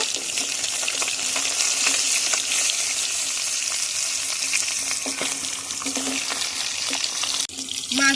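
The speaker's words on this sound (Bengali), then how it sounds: "এখন আলুগুলো দিয়ে দেব" Continuous loud sizzling of potato pieces coated in salt and turmeric frying in hot oil, close up, with occasional clicks and stirring noises.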